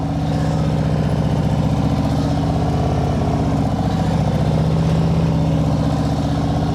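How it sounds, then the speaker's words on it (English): Motorcycle engine held at a constant throttle while riding uphill with light rear braking during a practice session, a steady, loud, unbroken drone that neither rises nor falls. "Listen to my throttle. Doesn't change."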